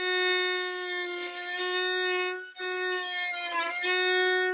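A single sustained string note rings steadily, then briefly breaks and wavers before continuing, stretched out and slowed down.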